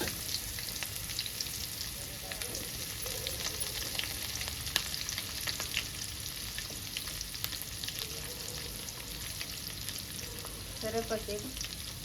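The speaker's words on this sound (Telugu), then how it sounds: "ఆయిల్ వేడైంది, ఆవాలు జీలకర్ర వేసుకుందాం. ఉల్లిగడ్డ, పచ్చిమిర్చి కూడా వేసుకుందాం." Mustard seeds, cumin, onion and green chilli fry in hot oil, making a continuous soft crackling sizzle that holds steady throughout, fairly quiet and close, with occasional light stirring and no one talking.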